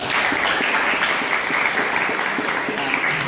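An audience applauds at a school or teachers' talk, dense steady clapping from many hands held at an even level for a few seconds.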